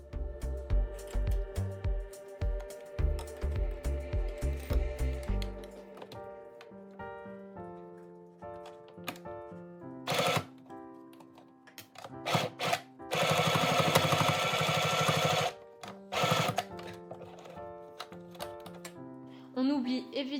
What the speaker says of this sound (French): je vais pouvoir venir faire une couture à 1 cm du bord